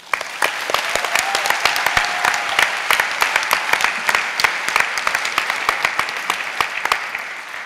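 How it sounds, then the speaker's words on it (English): A school audience at an awards ceremony in London claps loudly and steadily, a dense, close roll of many hands that holds even throughout with no voices. "I think they all deserve a round of applause"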